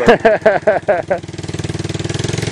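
A tractor engine settles into a steady, rhythmic idle after a few louder, uneven revs, chugging close by with a low pulsing throb.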